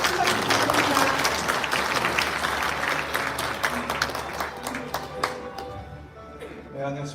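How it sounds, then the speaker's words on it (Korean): An audience at a launch ceremony held in a National Assembly hall in Korea applauds steadily and loudly, and the clapping tapers off toward the end as it thins out. "큰 박수 부탁드립니다"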